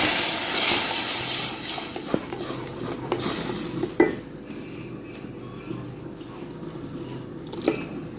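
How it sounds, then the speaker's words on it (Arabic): Onions frying in a pan as the base for an Egyptian okra and meat stew, with clinks and scraping of a spoon stirring against the pan over a steady sizzle. "البصلة بتتحمر اهي، البصلة اتحمرت اهي"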